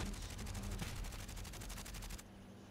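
Rapid automatic gunfire from Call of Duty gameplay rattles in a dense, continuous burst of evenly spaced shots, then cuts off abruptly near the end, leaving a quieter background.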